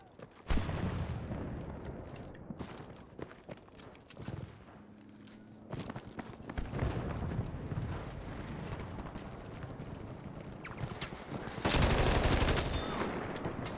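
Bursts of BAR M1918A2 automatic rifle fire fitted with an AA scope in Battlefield 5 multiplayer, dense shots mixed with battlefield noise and explosions, loudest burst near the end.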